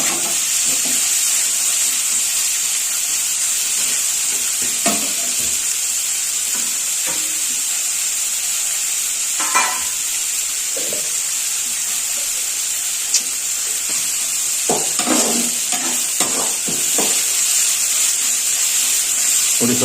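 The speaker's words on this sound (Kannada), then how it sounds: "ಬಾಂಡ್ಲಿ ಒಳಗಡೆ ನಾವು ಅಡಿಗೆ ಎಣ್ಣೆ ಮತ್ತೆ ಸಾಸಿವೆ, ಕರಿಬೇವಿನ ಸೊಪ್ಪು ಮತ್ತೆ ಈರುಳ್ಳಿ ಹಾಕೊಂಡು ಇಷ್ಟನ್ನು ಇವಾಗ ಫ್ರೈ ಮಾಡ್ಕೊತಾ ಇದೀವಿ" Onions sizzle loudly in hot cooking oil with mustard seeds and curry leaves in a pan, a steady close-up frying hiss broken by occasional stirring scrapes.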